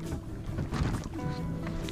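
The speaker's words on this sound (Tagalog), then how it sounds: "Ayaw mamatay kasi yung makina" A small fishing boat's engine keeps running at night at sea, a steady rumbling drone mixed with wind and water noise and no pauses.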